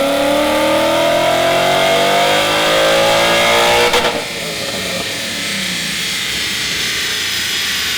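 A Ford Mustang GT revs hard on a dyno, the engine note climbing steadily and loudly to a peak before cutting off abruptly and falling into a lower, rumbling wind-down.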